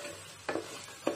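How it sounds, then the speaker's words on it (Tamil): Prawn masala stirred in a pan over a high flame: two brief scraping strokes of a spoon against the pan stand out over a steady soft sizzle, close and fairly quiet. "ஒரு நிமிஷம் போல் நல்லா கைவிடாமல் கலரி எடுத்துக்கலாம்"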